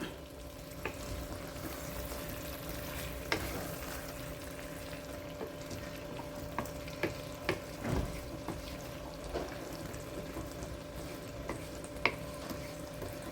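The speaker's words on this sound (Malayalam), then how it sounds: "ഇളക്കി യോജിപ്പിച്ചിട്ട് സിമ്മിൽ വെച്ച് ഒരു 5 മിനിറ്റ് കൂടി നമുക്കൊന്ന് വേവിച്ചെടുക്കാം" A homestyle chicken roast simmers on a low flame with a faint, steady sizzle and occasional soft clicks and taps, quiet and continuous with no voices.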